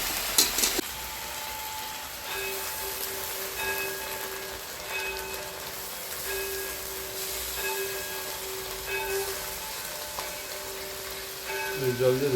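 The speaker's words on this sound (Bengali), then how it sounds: "আদা বাটা আর রসুন বাটাগুলো দিয়ে দিচ্ছি। আদা বাটা নেড়ে দিই, তারপর রসুন বাটাগুলো দিচ্ছি।" Ginger and garlic paste frying in a pan as it is stirred, a steady close sizzle with occasional scraping, plus a faint sustained tonal hum in the background; no talking.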